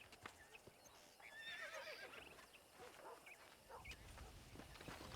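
A horse in the video game Red Dead Redemption gives a shrill, wavering whinny over clip-clopping hooves and outdoor game ambience, with a brief voice heard faintly.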